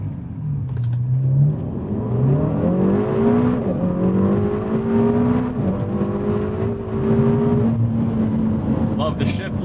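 A 2017 Ferrari California T twin-turbo engine revs hard toward redline, its pitch climbing steadily through the gears with short dips at each upshift, heard from inside the car as a loud, continuous roar.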